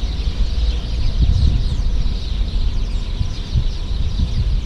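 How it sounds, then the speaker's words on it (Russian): Birds chirp and cluck steadily outdoors at Château de Sully-sur-Loire in France's Loire Valley, a busy layered chorus of calls over a constant rushing background noise, fairly loud with no speech. "Ой, и птички бушуют."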